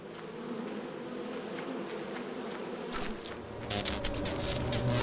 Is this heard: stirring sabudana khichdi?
no